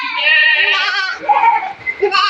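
Goats and young goat kids on a goat farm bleating loudly and close, a long wavering cry followed by several shorter overlapping bleats.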